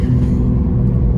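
A 2025 Aston Martin Vanquish with a turbocharged engine rumbles loudly and deeply from close by as it accelerates, a steady heavy drone with no talking.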